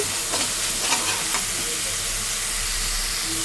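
Mutton with ginger-garlic paste and green chillies frying in a pan for a mutton curry, a steady broadband sizzle with a few spoon scrapes of stirring early on, continuous and fairly close.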